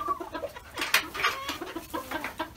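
Chickens in a coop cluck and squawk continuously, with several birds calling close by in an irregular busy chorus and one loud bird standing out.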